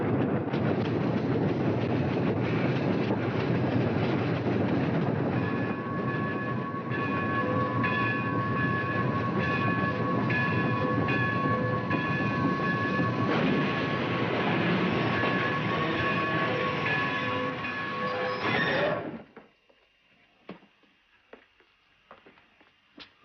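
A train rumbles and rattles steadily close by for most of the clip, then falls quiet, leaving a few faint clanks.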